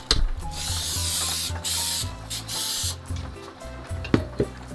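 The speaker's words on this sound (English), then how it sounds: "Just spray them down with cooking oil or brush them." Several bursts of cooking oil spray hiss in quick succession onto gluten-free pizza dough balls in containers, mixed with handling clatter and light knocks of containers, close to the microphone.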